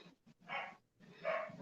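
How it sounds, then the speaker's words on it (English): A dog barks twice at a distance, faint and muffled, with a short pause between the two barks. "dog started barking over there"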